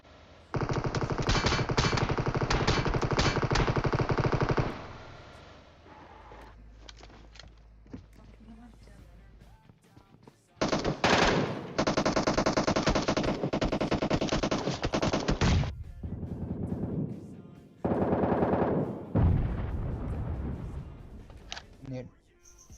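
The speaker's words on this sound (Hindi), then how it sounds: "बंदा गोली चला रहा है" Automatic gunfire in the PUBG Mobile video game: long, loud, rapid bursts of machine-gun fire separated by quieter gaps with footsteps and shorter volleys, while a voice talks.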